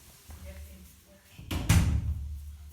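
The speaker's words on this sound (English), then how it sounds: "Let me just close the door" A door swung shut indoors during a hard drive repair, landing as a single solid thud after a few quiet shuffling sounds, with a short low rumble trailing off.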